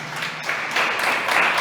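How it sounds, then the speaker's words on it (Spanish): Applause from a church congregation during a service, a steady wash of clapping hands that swells slightly toward the end and fills the whole short moment. "Un aplauso para Jesús."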